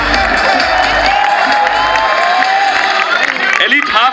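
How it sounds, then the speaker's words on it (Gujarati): A big marathon crowd at the 2011 Ahmedabad event cheers and applauds loudly and steadily throughout, with whoops and children's shouts in the mix and a voice breaking through now and then. "જોરદાર તાળીઓ."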